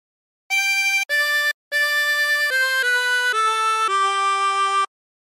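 A 24-hole tremolo harmonica plays the opening of Hark the Herald Angels Sing, a short string of clear, wavering reedy notes with a brief gap after the first two, solo and close.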